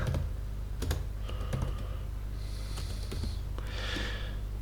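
Keys clatter in short bursts of typing on a computer keyboard, close by, with brief pauses between clusters of taps.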